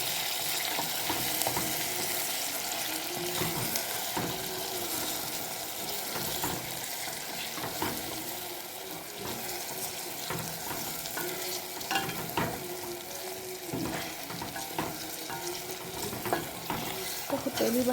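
Okra, meat and vegetables sizzle in a pot while being stirred, giving a steady close frying hiss with repeated scraping and stirring strokes throughout.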